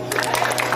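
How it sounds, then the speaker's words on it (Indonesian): Clapping from a group of people at a fire-prevention training, a steady patter of many hands at moderate loudness, brief and continuous. "Tepuk tangan dong."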